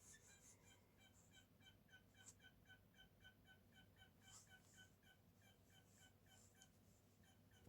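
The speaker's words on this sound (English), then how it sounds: "I hear another bird." A pet bird calls indoors in a quiet room, giving a steady run of short, bright repeated chirps at a regular rhythm, fairly faint against a low background hum, with no talk.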